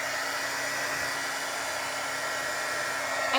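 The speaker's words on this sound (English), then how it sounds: "I'm going to put a little bit of my heat gun on there." A heat gun blowing hot air to dry paint on laser-cut wooden earrings, a steady loud whooshing roar with a constant fan whine, close and unbroken.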